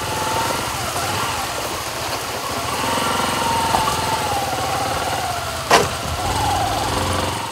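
A motorcycle engine runs steadily on a road damaged by landslides, a close mid-pitched drone with a brief sharp knock partway through.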